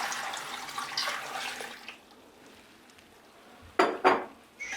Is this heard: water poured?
yes